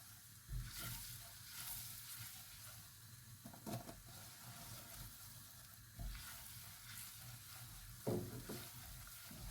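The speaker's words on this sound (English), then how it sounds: "And you want to cook the flour out." Flour is stirred into butter in a pan to make a roux for a soufflé, giving a continuous soft sizzle with gentle scraping strokes at irregular intervals. The sound is close and moderately quiet, with no one speaking.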